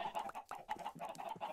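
Chickens in Minecraft cluck in quick, repeated bursts, a faint but busy chorus of short clucks with no talk.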